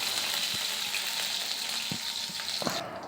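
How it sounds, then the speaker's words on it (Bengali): Green chilies dropped into hot oil while cooking pasta masala, giving a steady bright sizzle that runs the whole time, with a few soft clicks of a utensil, then a sudden drop near the end. "তাই তেল গরম হয়ে গেছে। এবার আমি এর মধ্যে কাঁচা লঙ্কাগুলো দিয়ে দিলাম।"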